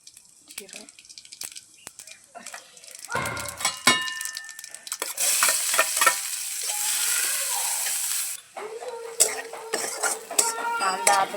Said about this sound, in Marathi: कांदा आता चांगला परतलाय,